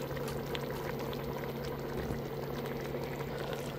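Eggplant pieces go into a pot of simmering water, a steady bubbling and sizzling wash that stays even and fairly close throughout, with no voices.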